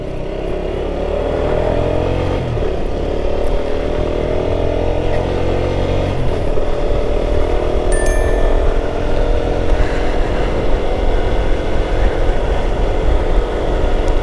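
A Shineray Storm 200 street motorcycle ridden at an easy pace, its engine droning steadily and loud up close with mild rises in pitch, wind rushing over the mic throughout.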